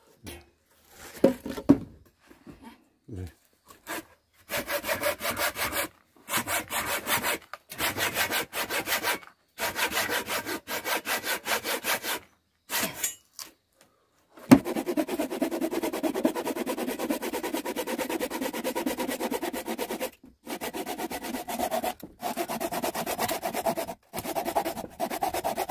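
A hand saw cuts through wood in steady back-and-forth strokes, first in short bursts with pauses, then in a long continuous run, close and clear with no talking.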